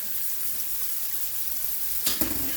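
Jumbo shrimp, cut in half, frying in a skillet with a steady close hiss and crackle of hot oil, briefly stirred with a louder scrape and spatter near the end.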